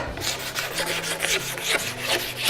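Steady back-and-forth scraping of a tool over a greasy wooden cabinet door, a rough rasping rhythm of repeated close strokes with no voices.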